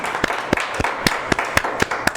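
A crowd at a Hindi kavi sammelan gives a short burst of applause welcoming poet Mumtaz Naseem, with sharp, fairly regular claps standing out over a steady crowd wash, no voices on top.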